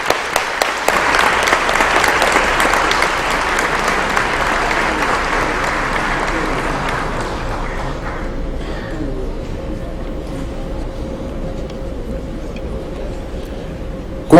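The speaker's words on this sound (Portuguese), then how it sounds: "a quem peço uma calorosa salva de palmas" Loud, warm applause from an audience at an honorary ceremony in a legislative assembly hall, dense clapping that gradually thins and fades over about fourteen seconds.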